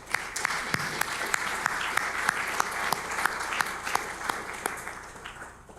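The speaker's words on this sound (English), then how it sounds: "Let's give them all a round of applause." Audience applause at an international forum keynote, a dense, steady clapping from a large crowd filling the hall, sustained and even throughout with no talking.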